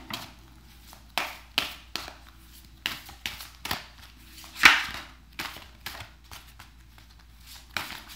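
Tarot cards are shuffled and tapped in quick, irregular bursts, close and fairly quiet, with no voices.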